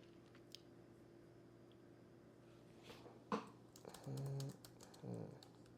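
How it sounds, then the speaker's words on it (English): Keys on a computer keyboard are tapped in a few scattered clicks, quiet and close, over a low steady hum with no talking. "I'm typing to my friend Peter."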